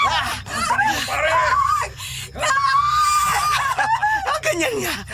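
Screams ring out during a violent horror scene from a Filipino aswang story, shrill wavering cries in long bursts mixed with voices talking and taunting nearby.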